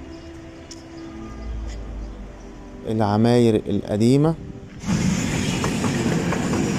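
A modern yellow air-conditioned tram rolls past on a street in Alexandria, Egypt, a broad rumbling wash of rail noise swelling in after someone speaks briefly over city background sound.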